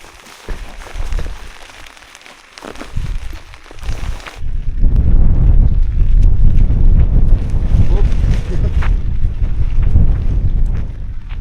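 Strong wind gusts buffet the microphone outdoors in stormy, grim weather at a tarp shelter setup, starting lighter and swelling into a steady loud roar after a few seconds.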